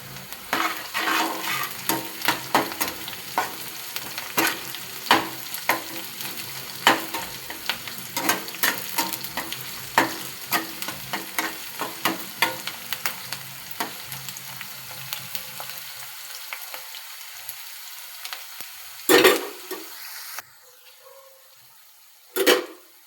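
Green chillies fry in a pan with a steady crackling sizzle and the occasional clink of a stirring utensil, loud and close throughout, then the sizzle drops away near the end.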